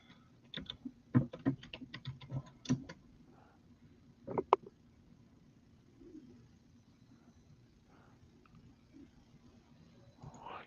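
Typing on a computer keyboard, close clusters of quick clicking keystrokes in short bursts separated by quiet pauses, with faint background sounds in between.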